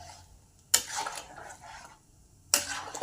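Chicken curry with new potatoes stirred in a pot, two sharp scraping clatters of a spoon against the pan over a low background sizzle, close up.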